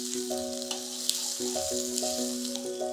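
Onions frying in a pan with grated ginger just added give a steady, moderately close sizzle, with faint scraping and stirring clicks over a sustained tonal hum.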